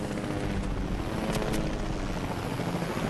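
A helicopter in the video game Fortnite, heard as a steady, loud rotor drone with chopping blade thump and engine whine running throughout the three seconds, with no talk over it.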